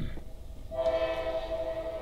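A train passes nearby with a steady rumble, and from about the middle its horn blows one long sustained blast over the rolling noise.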